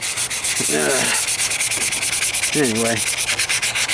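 Wet sanding of rattle-can paint on the hood of a 1998 Toyota Corolla: steady, close rhythmic rubbing strokes with a continuous gritty hiss, while someone speaks briefly twice over it.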